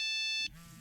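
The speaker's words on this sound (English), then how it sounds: "Another text message." A phone sounds a short electronic text-message alert, a bright steady tone lasting about half a second, then cuts off to quiet low room noise.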